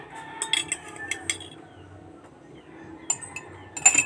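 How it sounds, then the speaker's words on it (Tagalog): A metal spoon stirs coffee in a cup with light clinking taps against the side, a few quick bursts close by, separated by short pauses. "Magtimpla tayo ng kape. Magtimpla tayo ng coffee."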